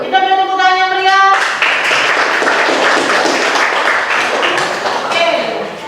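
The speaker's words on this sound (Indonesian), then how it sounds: "Kita beri tepuk tangan yang meriah" Classroom audience applauding a group presentation: dense, loud clapping that bursts in after a short sustained tone and holds steady for several seconds before tapering slightly.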